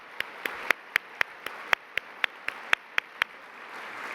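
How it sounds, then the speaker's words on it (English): A few slow, isolated hand claps ring out in a quiet room at an awards event honoring women, sharp evenly spaced single claps rather than full crowd applause. "I just want one big round of applause for our honorees today"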